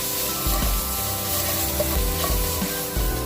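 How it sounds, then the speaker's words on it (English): Garam masala and chili powder being stirred in a hot pan for chicken saag, a continuous close sizzle with rhythmic scraping of a wooden spoon across the pan, no talking. "I'm gonna give that a stir"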